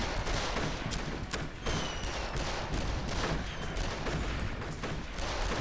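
Dense, loud gunfire crackles in the Darkest of Days video game: overlapping rifle and machine-gun bursts keep up a steady volley for several seconds with no one speaking.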